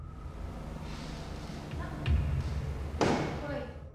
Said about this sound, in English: It sounds to me like a door creaks and then something bangs loudly nearby.